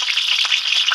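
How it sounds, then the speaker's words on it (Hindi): Chicken curry frying in a pan, a close, continuous crackling sizzle with tiny popping bursts throughout the short moment. "तब तक हम इसे फ्राई होने देंगे।"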